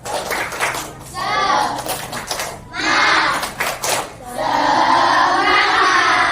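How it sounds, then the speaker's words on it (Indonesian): Schoolchildren in a classroom ice-breaker clap their hands in loud rhythmic bursts, rapid patterned claps with children's voices mixed in and brief pauses between rounds. "kita tepuk tangan semangat ya"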